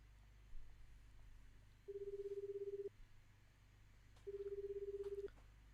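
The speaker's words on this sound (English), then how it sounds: "Osawa picked up his cell phone and dialed Tanaka's number." A cell phone call in the 428: Shibuya Scramble video game produces two sustained, even electronic tones, each about a second long and separated by a pause, quiet over a low background hum.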